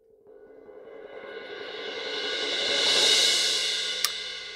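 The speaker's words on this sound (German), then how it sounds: "das Problem hier bei diesen Cymbal Rolls ist, dass sie leider mono aufgenommen wurden" A solo cymbal roll, recorded in mono, swells steadily from a soft shimmer to a loud wash over about four seconds, with a sharp click near the end.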